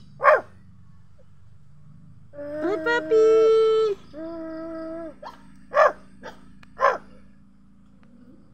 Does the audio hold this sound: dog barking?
yes